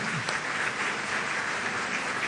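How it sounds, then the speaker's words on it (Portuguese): A crowd applauds steadily, a dense wash of many hands clapping at once, sustained and fairly loud throughout with no talking. "Uma salva de palmas para ele também."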